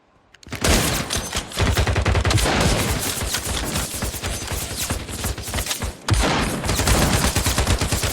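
Automatic fire from an MPT-76 rifle in the Turkish video game Sabotaj, long loud sustained bursts of rapid shots after a brief quiet start, with a short break and then more continuous firing; no talking.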